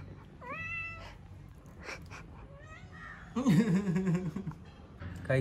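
A cat meows several times in short, rising, tonal calls, fairly close, with a person's voice and household background noise around them and a louder burst of activity midway.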